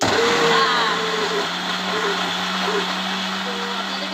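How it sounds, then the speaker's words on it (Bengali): A small mixer grinder running continuously, blending bhang ingredients, as a steady loud whirring motor drone with a faint tonal whine on top. "তো চলুন আমরা এখন মিক্সচারের মধ্যে দিয়ে দেবো এই ছোটোটার মধ্যে"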